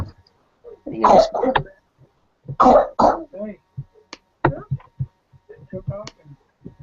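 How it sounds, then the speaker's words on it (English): Several harsh, sharp coughs in short bursts, close by, followed by quieter clicks and a brief spoken word. "You're coughing."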